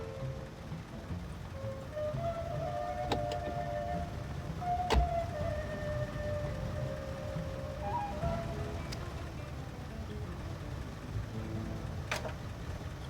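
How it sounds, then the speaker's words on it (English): Engine of an old car idling steadily in the game My Winter Car, a constant low rumble holding through the whole stretch with occasional faint clicks and whines above it. "We'll keep the car running."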